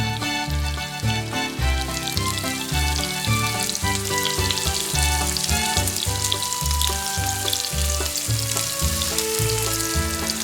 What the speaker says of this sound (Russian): Жарим до 5 минут, до образования хрустящей корочки.